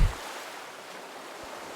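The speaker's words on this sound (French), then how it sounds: "le murmure régulier des vagues" Waves washing onto a beach, a broad soft rush of surf that swells at the start and then holds as a steady, close wash of foam and water, with no voices.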